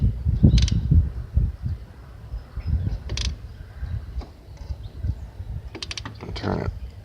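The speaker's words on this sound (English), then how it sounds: "turn your crank by hand" Engine crankshaft turned slowly by hand while a long screwdriver rests in the cylinder, heard as irregular close mechanical clunks and scraping ratchet-like clicks at moderate level, with a voice present.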